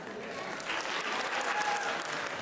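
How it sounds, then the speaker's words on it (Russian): Audience applause at a Tabasaran New Year concert in Makhachkala, a dense sustained patter of many hands heard from a distance, fairly faint with a slight swell midway. "Хлопают в основном мужчины"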